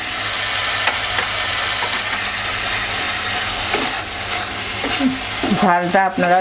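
Tomato hits a pan of frying fish curry with a steady sizzle and some stirring, and the crackle flares more strongly near the end.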